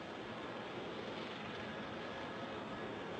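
Fixed-wing airplane with failed landing gear rolling down the runway after touchdown, a steady broad roar of engine and rushing wind filling the whole stretch without a break, loud and unvaried.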